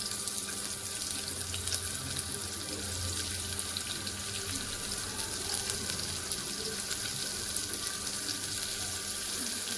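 Curry leaves and chopped onion with garlic fry in hot oil for a mung bean masala sambar, giving a steady, continuous sizzle that stays even throughout with no talking.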